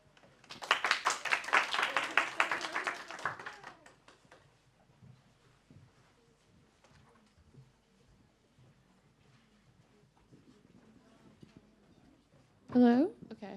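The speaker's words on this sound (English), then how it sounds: "So a little bit round of applause if you can." A short round of applause from an audience at a college talk on liberal arts education in the U.S., loud and dense for about three seconds, then fading into room noise and faint speech.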